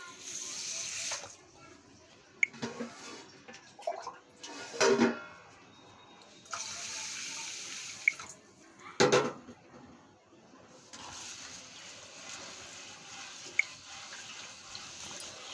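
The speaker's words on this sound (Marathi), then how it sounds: "आणि ह्या मिरच्यासुद्धा धुवून स्वच्छ" Green chillies are rinsed under running tap water in a home kitchen: a soft, faint hiss of flowing water with scattered drips, a few knocks and clatters, and quiet talk in places.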